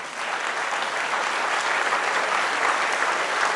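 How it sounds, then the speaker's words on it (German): Vigorous audience applause at a public health panel discussion on dementia, thanking the experts on the podium; a dense, loud wash of clapping sustained evenly throughout without talk. "Bitte noch mal ein ganz kräftiger Applaus."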